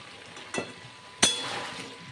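Spices fry in a pan for a vegetarian aloo dum, a steady low sizzle broken by two sharp clinks of a spoon or spatula against the pan, the second louder and followed by a brighter hiss.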